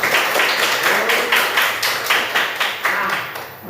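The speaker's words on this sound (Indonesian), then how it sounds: "Tepuk tangan dulu." Children clapping hands together in a classroom, a quick run of steady, evenly spaced claps that continue for several seconds, close and fairly loud.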